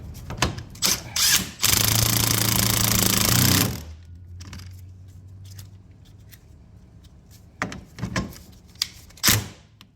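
Nut tightened onto a Club Car Precedent golf cart wheel, with one loud two-second buzzing burst of a power tool amid nearby clanks and handling knocks.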